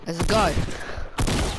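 Gunfire in a Fortnite Battle Royale match sounds as a quick burst of shots close by, mixed with game effects and voices talking over it.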